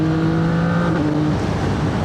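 A CF Moto 675 SR-R motorcycle in fifth gear holds a steady 70 mph on a carriageway near 6,000 rpm, giving a constant droning engine note under loud wind rush.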